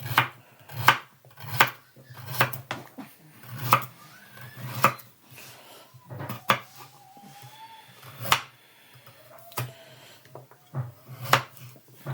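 Carrots sliced into small rounds for a potée auvergnate with cabbage, a knife striking a board in a steady series of close, sharp chops with brief pauses between.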